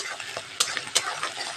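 Pointed gourd stuffed with onion, ginger, garlic and chili paste is stirred in a frying pan: a few scraping spatula strokes, two sharper clinks, over a soft, continuous sizzle of oil close by.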